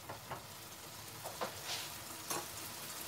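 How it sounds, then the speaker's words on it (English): Black pepper curry fries in a pan over full heat on a gas ring, a soft, steady sizzle with faint crackles and light stirring scrapes, heard alone. "we're going to stir that all back in and then leave that on its full heat on this gas ring"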